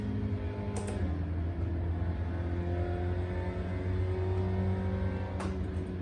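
Race car taking an easy lap at Road Atlanta, a steady engine drone with shifting pitch, continuous and fairly loud, a couple of brief clicks.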